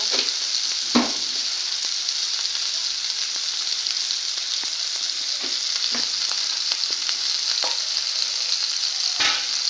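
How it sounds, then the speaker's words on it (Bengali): Spice paste of turmeric, salt and water frying in a pan for a cauliflower dish, steady bright sizzle with occasional stirring scrapes, close and moderately loud, no talking. "এই মশলাটা এখন শুধু কষানোর পালা"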